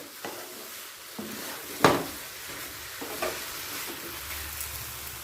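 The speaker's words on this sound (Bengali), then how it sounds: "আবারও ভালো করে গাজরের সাথে মিশিয়ে নিলাম" A grated carrot and cashew kalakand mixture is stirred in a pan over the heat, with a soft sizzle, a few scraping strokes and one louder clack of the spoon against the pan.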